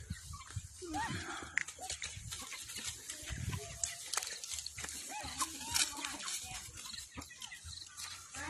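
Chickens cluck and squawk while being chased around a yard, in scattered close bursts mixed with rustling and footsteps, under intermittent talk.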